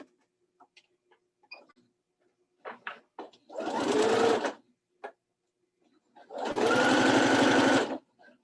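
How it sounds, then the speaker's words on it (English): A sewing machine stitches quilt fabric strips for a Christmas throw pillow in two short whirring bursts, separated by quiet clicks and ticks of handling between runs. "And we're sewing these, strips on horizontally."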